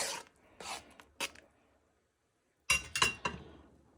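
Orange segments stirred into a fresh cranberry mixture in a glass bowl, a few brief scraping, clinking strokes, then a pause before another quick burst of stirring.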